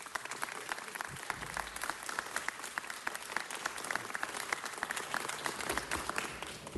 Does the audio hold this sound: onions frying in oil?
no